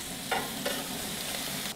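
An English breakfast fries on a plancha griddle plate, giving a steady, loud, close hiss and sizzle with a couple of brief scraping stirs and no talk.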